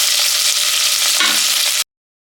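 Loud, steady sizzling of onions frying in a hot pan with curry leaves and dried red chilies, with a brief stir partway through before it cuts off abruptly.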